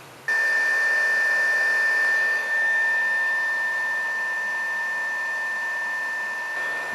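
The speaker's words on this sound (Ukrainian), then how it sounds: "перед випікою наносимо трішечки паяльного флюсу, вмикаємо фен і випарюємо" A hot air rework gun blows with a steady loud whoosh and a thin high whine, starting abruptly and holding constant, evaporating solder flux on a power bank circuit board.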